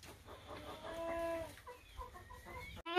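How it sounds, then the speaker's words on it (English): Hens cluck and squawk in a backyard coop, a run of close, loud clucks and calls with a sharp squawk near the end and no talking. "Now we're off to show you the chickens."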